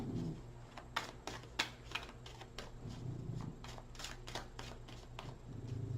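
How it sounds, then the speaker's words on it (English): A deck of tarot cards shuffled by hand, giving a run of quick, crisp riffling and tapping sounds close by, with no talk. "Off the top of the deck, one more shuffle."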